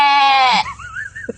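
A human voice imitates a sheep's bleat with one loud, drawn-out nasal bleat that cuts off abruptly, followed by a faint wavering tone.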